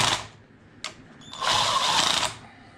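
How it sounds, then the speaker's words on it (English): A 1937 power drill running in bursts, with a short whine, a brief click, then a longer buzzing, rattling spin before it cuts off. "using this 1937 power drill"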